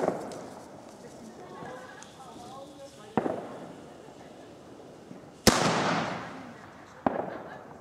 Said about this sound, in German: Zuerst der ältere Knallfrosch.